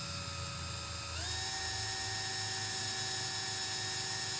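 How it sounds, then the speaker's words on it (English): A small drill bores a hole through a wooden car charm blank on a tabletop, giving a steady, close, high motor whine that jumps up in pitch after about a second and then holds continuous to the end. "That was the hole drilled through."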